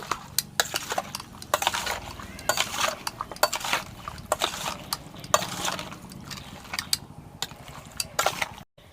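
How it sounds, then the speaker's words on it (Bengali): Pabda fish is mixed by hand with turmeric and mustard oil in a metal bowl, giving steady wet squelching and clinking scrapes throughout, close and fairly loud. "হলুদ গুঁড়ি দিয়ে দিচ্ছি, সরিষার তেল দিয়ে দিচ্ছি। ভালো করে মাখিয়ে নেব।"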